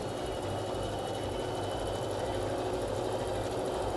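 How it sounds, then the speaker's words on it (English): A Singer 3321 sewing machine stitching fabric runs in a steady, continuous mechanical whir with a fast rhythmic needle clatter, close and even throughout, with no talking. "So when you start to sew, if you're not in the correct position, you can always adjust that till you get used to the machine."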